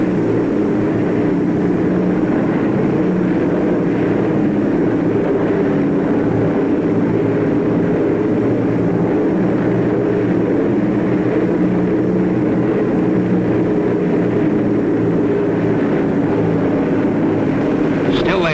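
Engine drone of WW2 Fw 190 fighter aircraft flying high, a steady loud roar lasting the whole stretch in wartime combat footage, with a narrator speaking over it.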